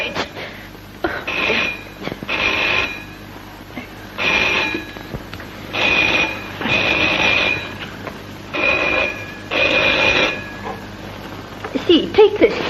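An old telephone bell rings in repeated bursts of about a second each, separated by short gaps, fairly loud and close with crackly background hiss; people speak between the rings.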